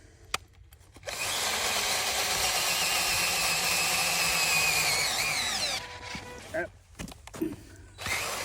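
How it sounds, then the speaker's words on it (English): A power drill whirs loudly and steadily into wood for several seconds, then stops, followed by some clattering handling noises. "we're gonna drill a hole in here"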